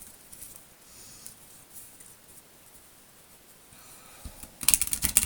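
Tarot cards are shuffled with soft papery rustling that builds into a rapid, close riffling patter at the end, with no talking.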